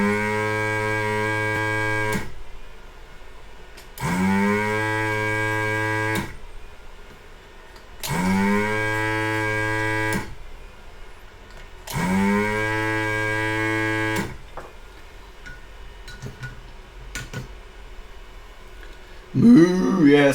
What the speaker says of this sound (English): Moo, yeah, that's what it sounds like.